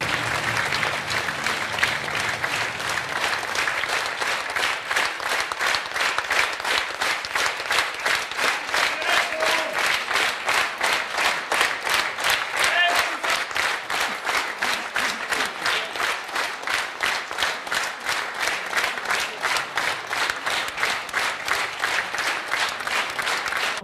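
A theatre audience applauding after a Hamlet performance in Deva, sustained loud clapping from a large crowd that settles into a rhythmic unison beat and continues steadily for a long stretch.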